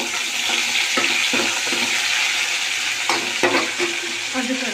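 Fennel seeds and curry leaves sizzle steadily in hot oil, a dense crackling hiss with stirring scrapes throughout and a few sharper pops near the end.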